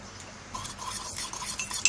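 A spoon stirring butter and milk together in a mug as the base for a microwave mug cake, soft continuous scraping with light clinks against the mug, close and quiet with no talking.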